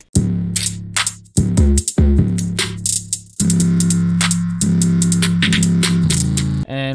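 Programmed hip-hop drum pattern with snares, hi-hats, small percussion hits and a booming 808 bass, looping steadily and loud for about seven seconds with brief drop-outs and no talking.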